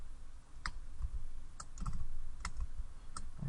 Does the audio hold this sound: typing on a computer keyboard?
yes